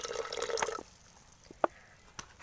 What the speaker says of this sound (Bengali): একটু আর করেই জলটা শুধু ঢেলে নিচ্ছি।